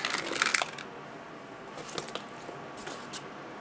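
A clattering rush of makeup products spilling onto a table, followed by a few faint scattered clicks and taps.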